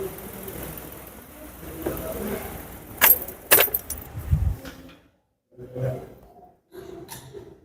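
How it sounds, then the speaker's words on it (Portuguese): A car engine is switched off, its idle cutting out into silence, followed by a few close, bright jangles of keys and some faint handling noises nearby. "Deixa eu desligar o carro para ficar um pouco melhor."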